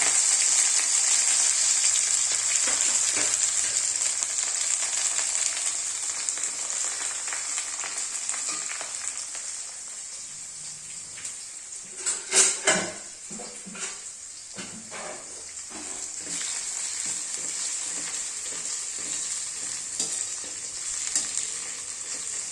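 Spiced masala for a kilo of mutton sizzles and fries in oil with mustard seeds, green chilli and curry leaves, a steady close crackle with occasional stirring scrapes and a brief louder clatter near the middle.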